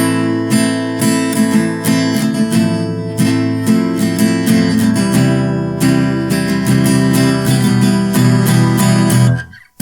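Guitar strummed in a steady rhythmic pattern, with sharp percussive muted strums breaking up the ringing chords, close and fairly loud, no talking.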